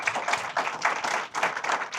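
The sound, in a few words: audience applause for a panel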